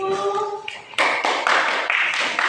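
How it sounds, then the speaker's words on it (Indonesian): Classroom applause for a student group, a short burst of close hand claps by several people following a voice, loud and choppy. "tepuk tangan dulu untuk kelompok 1"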